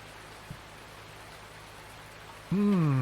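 Steady hiss of falling rain in Farming Simulator 19 fills the background, then a loud tonal engine-like drone of a crop sprayer cuts in near the end.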